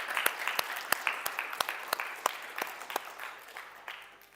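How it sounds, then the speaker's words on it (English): Audience applause for the Neuroscience Society and other helping societies at a machine learning event, a moderate round of scattered individual claps standing out sharply over a steady patter, fading slightly toward the end. "Can we just give them another round of applause real quick?"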